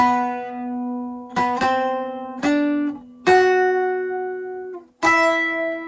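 Clean electric guitar playing a slow melodic line of sustained single notes and octaves, each picked note ringing out, with no one talking.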